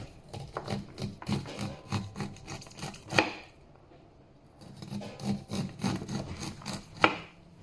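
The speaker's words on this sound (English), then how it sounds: "And you just slice it off." A knife scrapes repeatedly down a cob in quick rasping strokes, two bursts of slicing separated by a short pause, close and fairly quiet.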